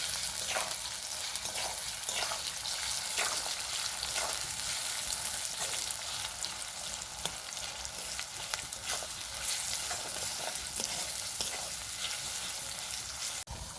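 Chopped onions frying in hot oil for a chicken malai curry, a dense continuous sizzle and crackle with frequent scraping stirs, close and fairly loud throughout, without any voices.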